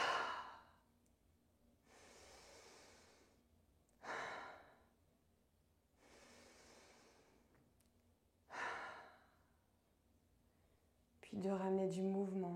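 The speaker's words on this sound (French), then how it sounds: "on va venir faire 3 inspires par le nez," Slow yoga breathing, three cycles of inhaling through the nose and exhaling through the mouth, each soft breath separated by quiet pauses, close and gentle, with a brief voice entering at the end.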